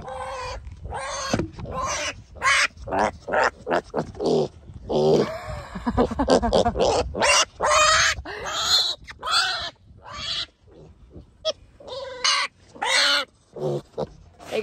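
Pig oinking in a series of loud, close grunts and squeals, with short bursts repeating irregularly for about fifteen seconds and one longer, strained squeal in the middle; a person briefly exclaims.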